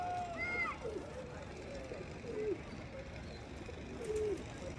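Pigeons on a rooftop give soft, repeated coos at intervals, fairly faint against a noisy background, with a voice speaking now and then.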